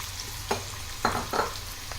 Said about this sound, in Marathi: आपला लसूण थोडासा गुलाबीसर झालेला आहे, त्याच्यात थोडासा अगदी थोडासा कांदा, अगदी 1 चमचाभर टाक